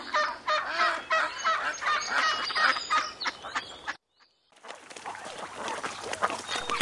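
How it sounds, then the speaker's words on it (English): Geese or swans honk and call over and over at fairly close range, a dense run of harsh cries that breaks off briefly and then resumes just as loud; no talking. "Look at the swans up in the sky."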